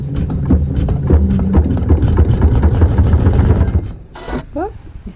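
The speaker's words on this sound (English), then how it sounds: "and then we're going to sew our seam." A sewing machine runs a seam on a checkerboard triangle quilt, giving a fast, steady mechanical whirr for about four seconds before stopping. A voice talks over it.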